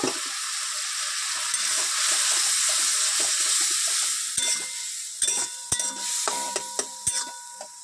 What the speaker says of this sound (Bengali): এবার একটু জল দেবো, দিয়ে মশলাটা কষিয়ে নেব